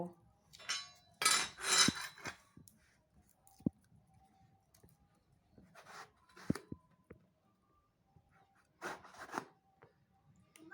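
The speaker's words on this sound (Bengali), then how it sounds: "এখন বেগুনটাকে কেটে নেব" A knife cuts through eggplant (brinjal) on a board in a home kitchen, with quiet intermittent scraping slices and light taps separated by pauses.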